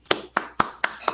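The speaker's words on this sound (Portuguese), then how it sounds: "Le voy a pedir a la gente, bueno, desde sus casas, un fuerte aplauso para usted." Slow, sparse hand claps in applause for a speaker, five distinct claps at a steady rhythm, close and fairly loud.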